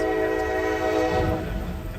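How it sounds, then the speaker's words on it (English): A train nears a railroad crossing, sounding a loud, sustained horn chord over the rumble of wheels on track, with the low rolling noise swelling as it comes closer. "a driver gets stuck on the railroad tracks with a train approaching fast"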